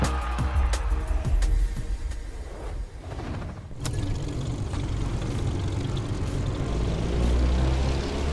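A Staggerwing propeller biplane flies in the racing game The Crew Motorfest, its engine a loud, continuous droning roar that dips briefly and then holds steady.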